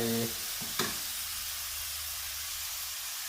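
Shrimp and squid stir-fried with instant noodles in a dry sukiyaki-style dish give off a steady, soft sizzle and hiss, with a brief utensil clack near the start.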